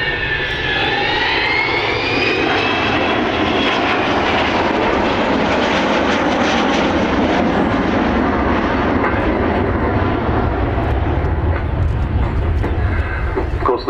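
A 60-year-old Avro Vulcan XH558 jet bomber flying at the RIAT 2012 airshow, its engines giving a loud, sustained, close roar with a rising whine at first, then a steady heavy rumble filling the whole stretch.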